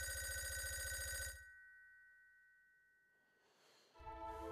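A telephone rings with a loud electronic trill in the horror game Five Nights at Wario's Origins 1988, stops abruptly, falls to near silence for a few seconds, then rings again.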